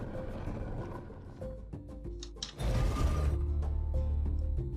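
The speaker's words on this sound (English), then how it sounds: "we hear some clicking as something moves in the walls" Mechanical clicking and ratcheting, with creaks and a grinding shift partway through, like machinery moving behind a wall.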